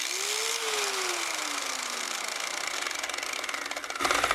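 A Drill Master 4 1/2 inch angle grinder runs alone, its motor whine sliding steadily down in pitch as it spins down after being switched off, followed by a brief clatter at the end.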